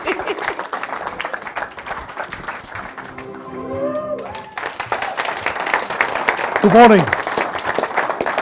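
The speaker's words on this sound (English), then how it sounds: "Keep clapping." A conference audience at an entrepreneur event claps continuously, loud and dense, with a short lull in the middle. A voice speaks over it and a brief whoop rises near the end.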